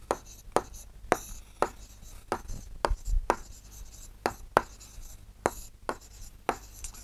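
Pen or pencil writing on paper during a geometry lesson, heard close up. It makes a steady series of short scratchy strokes and taps, roughly a dozen in quick irregular rhythm, with faint room background.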